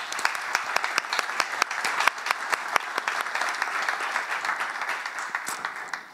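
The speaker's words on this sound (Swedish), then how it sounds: "Stor applåd tycker jag." An audience applauds after a team presentation at a local hackathon, sharp individual claps standing out from a steady wash of clapping that holds for several seconds before tapering off at the end.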